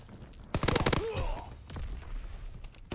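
Rapid burst of loud gunshots in an online shooter video game, with the shotgun being fired, several sharp blasts clustered close together, then scattered quieter shots and thuds amid game noise.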